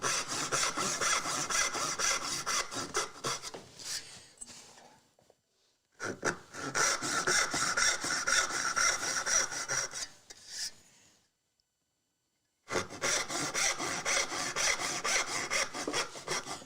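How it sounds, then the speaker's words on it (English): Rhythmic back-and-forth rasping of a hand saw cutting half-blind dovetails in wood, three sustained bursts separated by short pauses, close and fairly loud. "saw right in the kerf and make those cuts"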